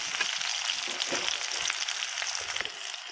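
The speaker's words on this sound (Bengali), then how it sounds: "ভালো করে নাড়াচাড়া করে দিচ্ছি। ভাজা ভাজা হবে বেশ সুন্দর করে" About 250 grams of onions fry in a pan with a continuous close sizzle, while stirring adds soft scraping and crackling throughout.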